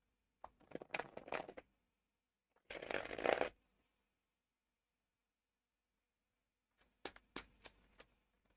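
Tarot cards being shuffled by hand in three separate bursts of crisp, riffling flutter, each lasting a second or so with pauses between, close and fairly quiet.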